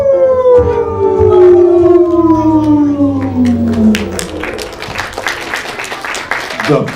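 The big bad wolf of a children's puppet theatre show howls long and loud, a sustained falling wail that slides downward over several seconds before fading into scattered stage noise.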